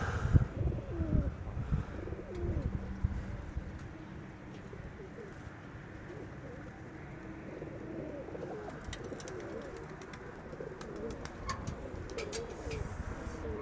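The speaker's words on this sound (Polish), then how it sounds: "Bo gołębie porozlatywane." Pigeons in a loft coo softly in low, overlapping calls, with scattered rustling and wing movement over a steady background hum, and no voices.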